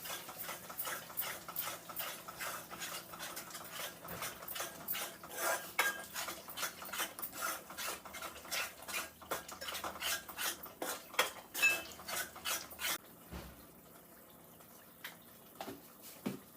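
Metal utensil clinking and scraping steadily against a pan while egg masala curry is stirred, a fast run of close, bright ticks for about thirteen seconds before the scraping stops and the room falls nearly quiet.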